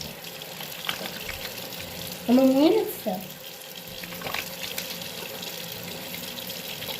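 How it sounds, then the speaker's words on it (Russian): Water runs from a tap while a bar of soap is lathered, a soft, steady splashing hiss with a short spoken remark partway through. "Берем, включаем воду."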